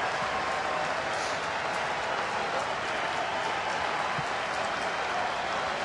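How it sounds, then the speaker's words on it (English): A sold-out crowd at a Phillies baseball game applauds and cheers, a dense, steady wash of clapping and crowd noise that fills the whole stretch without letting up. "What's left of the sold-out crowd."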